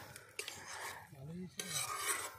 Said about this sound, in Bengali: এখন চিকেন কষানো হচ্ছে,